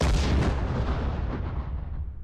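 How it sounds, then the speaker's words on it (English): Explosion sound effect from the Treasure Planet: Battle at Procyon game, a loud, dense broadband blast that rumbles and slowly decays across two seconds, with no voices. "you want some explosion sound effects?"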